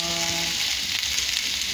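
Onions, capsicum and garlic frying in a pan, giving a steady, dense hiss of sizzling oil, close and uninterrupted, with a brief tonal sound fading out at the start.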